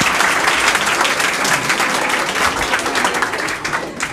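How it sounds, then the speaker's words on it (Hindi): Students in Bhagalpur clap loudly for their biology teacher, a dense, sustained burst of applause from a crowded room that tapers slightly toward the end. "तो एक बार सर के लिए फिर से ताली आप लोग."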